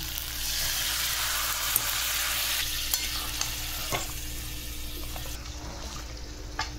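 Water is poured over fried, pre-soaked rice and masala in a pan for muri ghonto, a loud hissing sizzle and splash that eases off as the liquid settles, with a few clinks of stirring.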